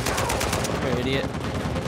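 Gunfire from a weapon in Uncharted 4: A Thief's End, a quick run of loud repeated shots at the start, then continuing game combat noise with a voice briefly audible.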